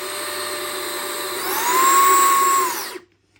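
A Numatic Henry Quick cordless stick vacuum switches on with a steady motor whir whose pitch climbs and whines for a few seconds, then cuts off abruptly into silence, heard up close with no talking.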